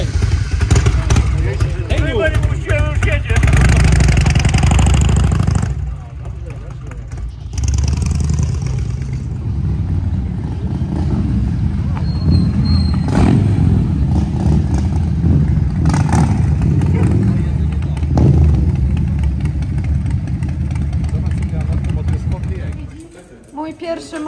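A motorcycle pulls away and rides off over Polish conversation among a gathering of people, its engine loud at first and then dropping back into steady background noise.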